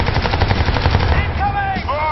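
Rapid automatic gunfire from the Crysis 2 shooter game rattles steadily through the first half, then gives way to whooshing, sweeping sci-fi effects and a shouted voice amid the combat.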